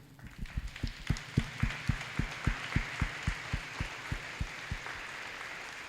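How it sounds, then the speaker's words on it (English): At a school promotion ceremony, a round of applause comes as evenly spaced, rhythmic claps, about a steady beat each second or so, fairly soft and distant with no talking. "giving them a round of applause for all the work that they did as teachers and educators"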